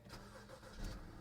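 A car engine cranking and catching after a push-button start, a brief muffled turnover that settles into a low idle, heard close and fairly quiet.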